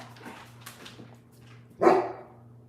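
A shepherd dog lets out one loud, sharp bark close by, after a few faint, scattered sounds in an otherwise quiet indoor room.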